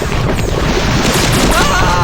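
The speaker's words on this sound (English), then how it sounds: "I hear your gunfire." Rapid bursts of gunfire in the first-person shooter Marathon Eternal, a dense, continuous volley of shots and impacts filling the whole stretch at close range, with game sound effects layered on top.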